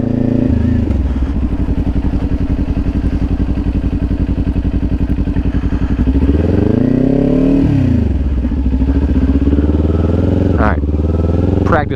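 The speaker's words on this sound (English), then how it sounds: "release the throttle, bring this in, click down, slowly let out while you give it some RPMs" A Kawasaki Ninja 400 motorcycle idles loudly up close, its engine rising and falling in a rev as the rider works the clutch and clicks down a gear, with a few clunks near the end.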